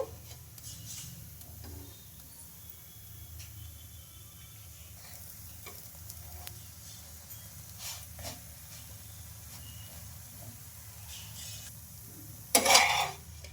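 Chapati roasting dry in a pan without added oil, turned over to cook both sides, gives a soft steady sizzle and hiss with faint scrapes, ending in a brief louder clatter near the close.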